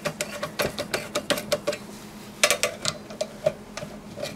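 Screws being tightened down on a CPU cooler in a Z800 workstation during a processor upgrade, heard as a steady run of small, close ticking and clicking taps with short pauses, no talking.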